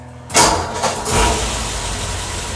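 A car engine cranks and catches with a quick rev, then settles into a loud, steady close-up idle.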